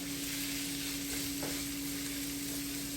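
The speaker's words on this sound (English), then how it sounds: "I'm gonna continue to saute it for about probably," Salmon sautéing with bell peppers and onions in a pan, a steady, even sizzle filling the whole stretch with no talking and a constant tonal hum underneath.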